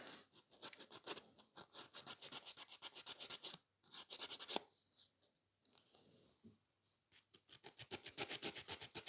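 A nail file rasps across a gel nail in quick, regular back-and-forth strokes, close and quiet, pausing briefly before the rhythmic filing resumes.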